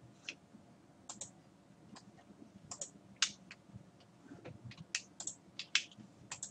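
Rapid, light clicking and tapping at a desk, many small irregular clicks close to the mic while working in Blender 2.60, faint and without voices.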